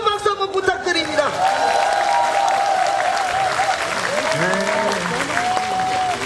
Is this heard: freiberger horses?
no